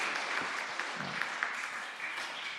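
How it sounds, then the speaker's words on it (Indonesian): A church congregation at a monthly youth service of a Toraja church claps briefly, a soft, scattered patter of hands, fairly distant and faint in a reverberant room. "Tepuk tangan dulu."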